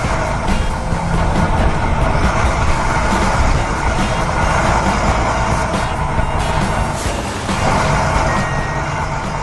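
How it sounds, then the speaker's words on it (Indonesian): Excavator loading debris into a dump truck on a mountain-slope snow village construction site, a loud continuous heavy-machinery rumble with beeping running through it, steady throughout and with no talk. "Sekarang ekskavator mulai beraksi. Ia mengeruk puing-puing itu dan memindahkannya ke dalam truk sampah dengan sangat rapi."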